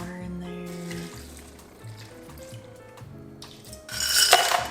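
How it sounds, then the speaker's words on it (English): Water is poured into a blender holding oats, a splashing fill that swells to a louder rushing pour at the end, following clinks of kitchenware. "Put some water in there."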